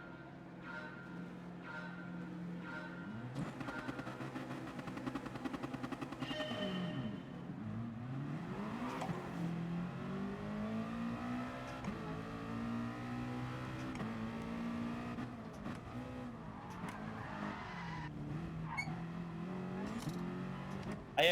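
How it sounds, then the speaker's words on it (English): Engine revving and tire screeching from the racing game GT Sport as a car slides, with sliding squeals and shifting engine pitch running continuously throughout. "I heard the car sliding."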